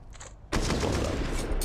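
Rapid automatic gunfire bursts out loudly in a Counter-Strike esports match, a sustained fusillade of shots following a quieter half-second lead-in.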